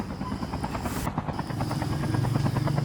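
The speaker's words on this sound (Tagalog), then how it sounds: "Sakay na kayo ng helicopter." A helicopter in the mobile shooter Call of Duty Mobile gives a loud, close rotor buzz with rapid regular blade chop that stays steady and grows slightly stronger toward the end.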